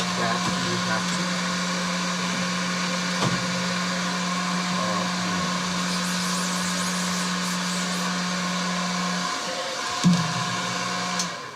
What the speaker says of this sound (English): I can use the dryer from a distance, right?